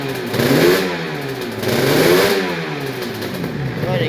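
A 1987 Suzuki RG 500 two-stroke motorcycle revs up close in a garage, its raspy engine note climbing and falling in two strong swells, then settling into a high idle.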